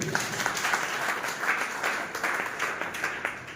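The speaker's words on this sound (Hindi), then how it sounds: "सबको चाहिए एक बार जोरदार ताली।" An audience at a network marketing seminar in Mahuwa, Surat claps loudly and continuously for a few seconds, a thick sustained wash of applause with no talk over it.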